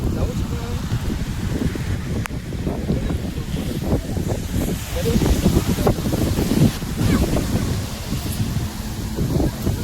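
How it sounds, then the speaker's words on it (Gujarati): Strong wind roars and buffets the microphone steadily throughout a fair in Gujarat, with a dense wash of rain underneath and occasional gusts swelling louder. "વરસાદ પણ છે અને પવન પણ સૌથી વધારે છે"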